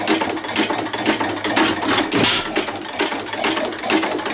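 An old engine running close and loud, with a fast, rhythmic mechanical clatter of firing strokes and valve gear tripping, steady throughout.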